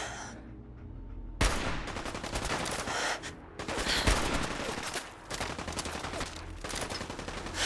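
Gunfire in Fallout 4, a dense run of rapid shots lasting several seconds after a short quiet start, loud and close with brief pauses between bursts.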